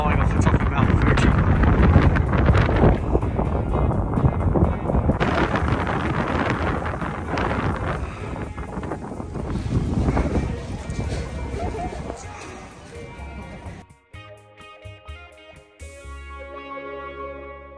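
Strong headwind buffeting a cycling camera microphone during a cold polar vortex ride near Mount Fuji, a loud continuous roaring rumble that eases later, with a person talking over it.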